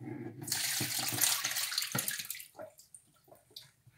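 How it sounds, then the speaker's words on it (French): Kidneys are rinsed in the kitchen under a running tap. A steady splash of water hisses for about two seconds, then breaks into softer trickling and dripping as the flow is interrupted. "Maintenant, je vais rincer mes rognons."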